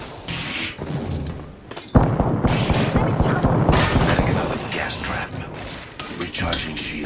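Gunfire and impact thumps in the Apex Legends battle royale video game, loud bursts of shots and mechanical clatter arriving abruptly and continuing in a dense, busy mix with game effects throughout.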